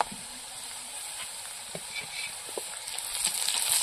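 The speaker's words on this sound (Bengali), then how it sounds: "পাঁচ ফোড়ন, পেঁয়াজটা একটু লাল করে ভেজে নেব।" Onions fry with five-spice and green chili for a village-style katla fish curry, giving a steady, close hiss and sizzle that swells slightly toward the end, with no talking.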